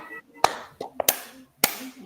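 A group of people in a training session clap in short sharp bursts, several distinct claps spread across two seconds, fairly quiet and close, with faint murmuring voices between them.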